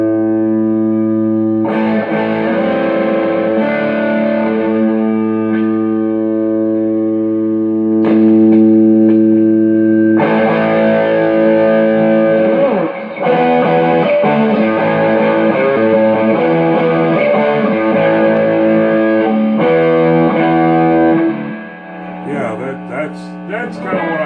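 Electric guitar played through a Fender Twin amp with distortion, sustained chords ringing out loud and close, with brief pauses between phrases and a faint tuning flutter near the end.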